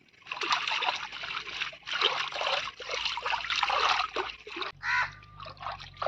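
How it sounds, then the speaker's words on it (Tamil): Water trickles and splashes steadily as agathi flowers are swished and rinsed by hand, with a few soft bursts of splashing in between. "பூ அலாசிக்கலாம் தண்ணியில்."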